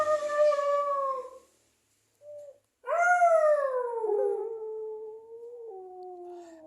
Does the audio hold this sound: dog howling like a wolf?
yes